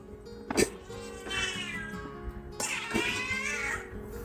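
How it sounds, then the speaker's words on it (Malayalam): A cat in a home kitchen meows twice up close, each drawn-out cry followed by a short pause, with faint household sounds underneath. "ഇതിവിടെ അടുക്കളയിടക്ക് വരുന്ന പൂച്ച."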